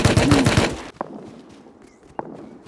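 Gunfire in the video game Rust: a rapid burst of loud shots comes first, then quieter single cracks follow in a sparse, lower-level game ambience.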